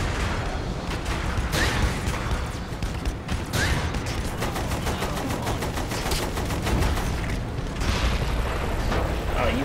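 Heavy weapons fire from a tank in Saints Row: The Third, with loud, rapid, evenly spaced shots and occasional deeper booms over constant rumbling combat noise.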